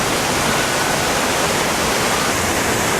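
A waterfall at Hunter Creek near Reno roars as a loud, dense, unbroken wash of falling water, close and steady throughout with no voices.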